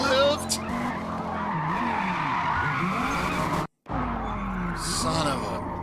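Race car in the Forza racing game skidding under hard braking, tires squealing over a steady engine drone, with a brief cut to silence near the end before the engine noise resumes.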